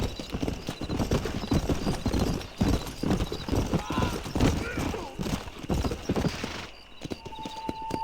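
Rapid rhythmic hoofbeats of a horse galloping under a rider in the video game Red Dead Redemption, loud and close, continuing steadily for most of the span before dropping away near the end, with voices and game sounds mixed in.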